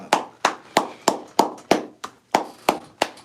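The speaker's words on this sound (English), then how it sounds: "Clap it up for hip hop." Ten sharp hand claps in a steady, even rhythm, each a crisp broadband smack with a short decay, close and alone with no talking.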